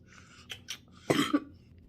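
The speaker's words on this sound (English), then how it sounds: "had a cough attack" A short coughing fit: two or three close, forceful coughs in quick succession, with a couple of softer breathy sounds just before. It sounds near and fairly loud against a quiet room.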